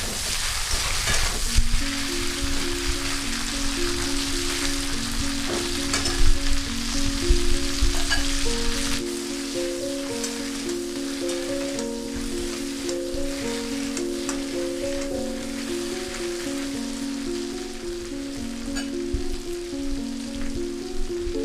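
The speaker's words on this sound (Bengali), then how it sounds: "এখানে চালতাটা কিছুক্ষণ নাড়াচাড়া করে নিতে হবে।" Elephant apple (chalta) frying in a pan over a medium gas flame, a steady close sizzle with stirring scrapes under a melodic background tune.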